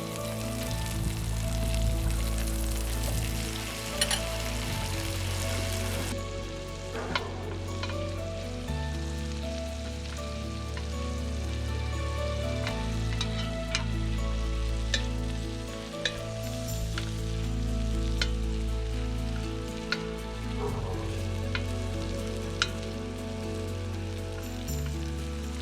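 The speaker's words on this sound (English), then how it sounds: "So we're just going to let them sear a few minutes, get good and brown on the bottom" Meat sears in a Dutch oven with a steady, close sizzling crackle and occasional pops and spits, continuous throughout under a low background hum, for a mini beef Wellington-style dish.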